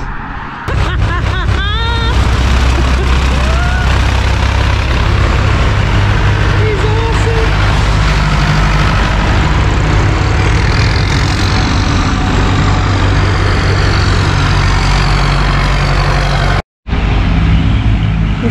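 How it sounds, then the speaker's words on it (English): Tractors run steadily on a hillside walking route near the Pennine Way in County Durham, a continuous low engine drone with heavy wind buffeting, loud throughout and briefly cut near the end. "Still here in the background, all the tractors going"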